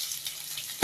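Onion and garlic frying in hot oil in a kadai give a brief, close hiss of sizzling, ending in a sharp louder burst as something is stirred or added.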